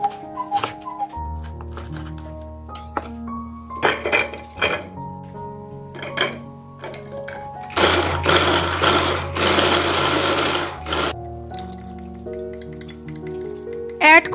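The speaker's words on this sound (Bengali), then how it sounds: "পেঁয়াজ আর 2টো কাঁচা লঙ্কাকে ইলেকট্রিক চপারের মধ্যে দিয়ে খুব ভালো করে কুচিয়ে নেবো।" An electric chopper mincing onion and two green chillies, heard as short whirring motor bursts and a longer, harsher grinding run in the middle, with scattered clinks of kitchen utensils around it.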